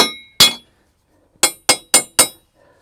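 Carriage bolt tapped into a freshly reamed hole in a welded steel deck support bracket: one sharp metallic clink, then after a pause four quick ringing hammer strikes in a row, close and crisp.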